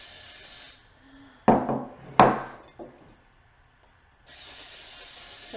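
Cooking spray hisses onto a baking pan in two short, close bursts, with a few fainter spritzes afterward.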